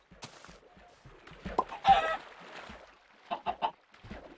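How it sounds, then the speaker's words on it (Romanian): Chickens clucking in the Minecraft video game, a series of short, clear clucks scattered across the moment, with a louder burst near the middle and a quick cluster toward the end, no talking over them. "O găină."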